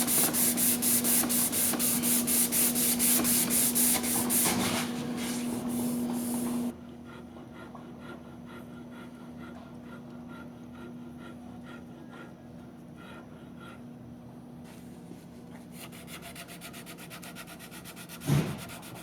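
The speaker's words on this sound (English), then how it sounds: "give it a sanding with this" Sandpaper rubs briskly along a guitar neck in quick back-and-forth strokes, loud and close at first, then softer, steadier rubbing continues with a low hum beneath.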